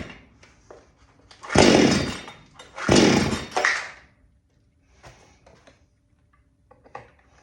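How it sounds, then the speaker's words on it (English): A Garwinner 62cc gas chainsaw revs up twice in quick bursts, loud and close, each rising and falling, followed by a sputtering idle with scattered small clicks and knocks. "Just get these things rev up."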